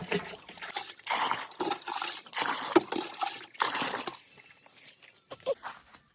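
Water poured or trickling for a thirsty animal in a Himachal village, a splashing, gurgling flow in bursts for about four seconds, then quieter trickles and drips close by.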